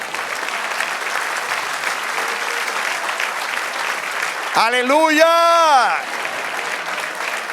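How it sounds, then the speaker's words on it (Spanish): Church congregation applauding steadily and loudly throughout, a continuous wash of clapping under which a voice calls out a short sung exclamation near the end. "Dele un aplauso al Señor."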